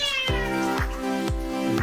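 Cat meowing before a flea bath, a series of loud, drawn-out, wailing meows repeated about every half second, very close and clear with no talk.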